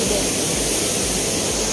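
Kundah waterfall in the Nilgiris roars as a steady, loud, broadband rush of falling water with no breaks, close by and filling the whole sound.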